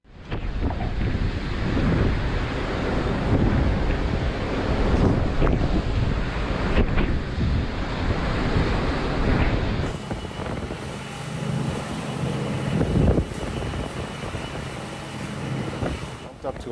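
Heavy typhoon wind roars against the microphone over crashing surf near Guam, a steady loud rumble of storm weather with gusts rising and easing throughout.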